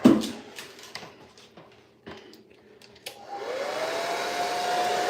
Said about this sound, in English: so now I'm gonna hit it with the blow dryer.